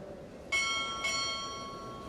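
A ship's bell struck twice at a naval chief petty officer pinning ceremony, two bright ringing strokes about half a second apart, each leaving a long shimmering decay over a quiet room.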